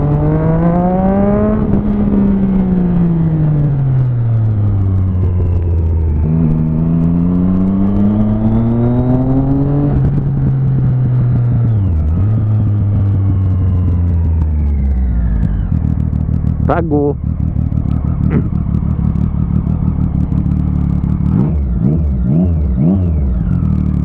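A motorcycle engine revs hard through repeated rising and falling gear pulls while riding in city traffic, loud and close with wind rush, ending in lower rumbling and brief revs; a voice speaks briefly.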